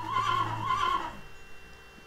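A horse whinnies twice in quick succession in the medieval strategy game Sovereignty: Crown of Kings, a loud, near neigh that rises and falls, then fades into quiet background ambience.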